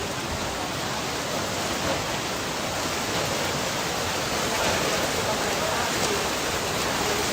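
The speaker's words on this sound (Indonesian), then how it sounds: "saat ini saya di Jembatan Pendei, kondisi hujan" Heavy rain pours steadily at a flooded bridge during a flash flood in Garut, a loud, dense, unbroken hiss that fills the scene with no voices heard.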